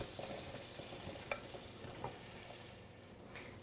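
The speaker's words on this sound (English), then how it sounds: "I'm going to go ahead and add the onions and chilies so we can saute those." Onions and chilies saute quietly in melted butter, a soft, steady sizzle with faint occasional pops and stirring clicks, heard at low level throughout.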